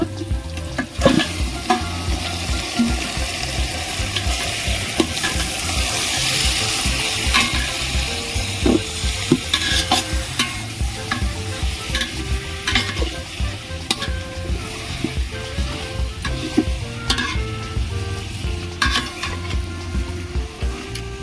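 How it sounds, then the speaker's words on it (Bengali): Pieces of mutton fry in a hot pan for curry, with a steady close sizzle and repeated scraping and clacking of a spatula as the meat is stirred, alone without any voices. "যতক্ষণ না মাংসর কালার চেঞ্জ হয়ে যাচ্ছে ততক্ষণ আমি পেঁয়াজ রসুন দেবো না এইভাবে কষিয়ে নেবো"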